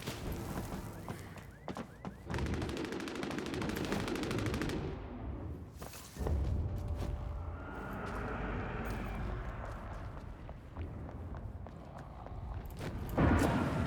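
Gunfire from the Bloodhunt video game, dense bursts of automatic fire and shots through most of the stretch, loud and continuous with brief lulls, no talking.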